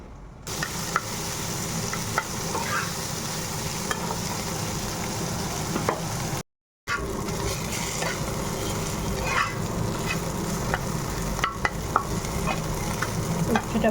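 Sliced bitter gourd frying in a pan with steady sizzle, punctuated by scraping stirs of a spatula, continuous and close, with a brief gap partway through.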